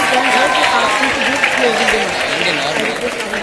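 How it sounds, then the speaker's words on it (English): Student audience at a live school interaction event with a politician applauding in a standing ovation, a steady wash of clapping mixed with loud crowd voices and talk over it throughout. "Let's all stand and give him a big, big round of applause."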